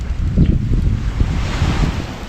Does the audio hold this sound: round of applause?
no